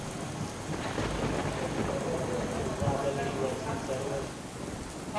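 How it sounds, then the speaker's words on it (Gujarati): Heavy monsoon rain pours down in Banaskantha, Gujarat, a dense, steady hiss and roar of drops on surfaces that holds at an even loudness throughout, with a faint low rumble underneath. "તો ધોધમાર વરસાદની શરૂઆત ત્યાં આગળ થઈ ચૂકી છે."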